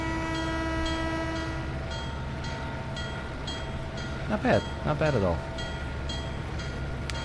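A railroad video game train, a southbound road switcher headed for Kalamazoo, rolls past with a steady rumble, a sustained horn tone and a regular clicking of wheels over rail joints, while someone briefly comments midway.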